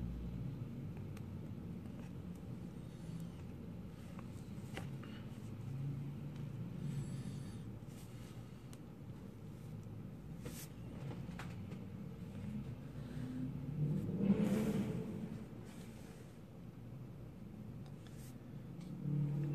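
Steady low rumble of city traffic in the distance, with a car passing a little closer midway before the hum settles back down.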